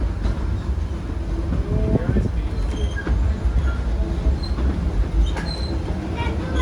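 A Disneyland Railroad train rolls along its rails, a steady close rumble with scattered wheel squeals and clicks, while a voice speaks over the running noise.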